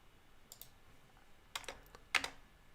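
Several sharp key clicks in short bursts at close range, typed on a computer keyboard while setting up OpenBSD on a Raspberry Pi 4, with quiet pauses between the presses and no talk.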